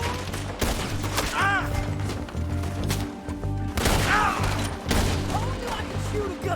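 Gunfire in Red Dead Redemption 2 during a shootout, with several sharp, loud rifle and pistol shots in irregular bursts, ricochet whines and crashing impacts over a tense music bed.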